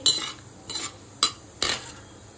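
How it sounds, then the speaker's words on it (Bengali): A spoon scrapes and stirs whole cumin seeds and spices through hot oil for chana masala, four short scraping strokes with a light sizzle between them, close and fairly quiet. "সমস্ত উপকরণ তেলটার সাথে ভালোভাবে মিশিয়ে নিচ্ছি"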